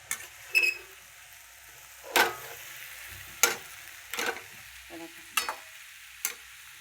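Finely chopped cabbage sabzi fries in a pan while a spoon stirs it. Several sharp scraping strokes come at irregular intervals over a quiet background sizzle, close by and with no voices.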